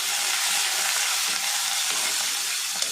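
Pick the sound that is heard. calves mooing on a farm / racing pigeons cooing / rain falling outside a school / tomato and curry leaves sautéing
tomato and curry leaves sautéing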